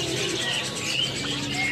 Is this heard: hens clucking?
no